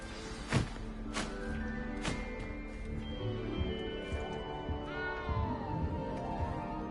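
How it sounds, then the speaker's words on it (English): A frightened cat in Hogwarts Legacy gives several meows and wavering cries, moderately close, over a continuous layer of game ambience and background music. "You don't need to be frightened, little cat."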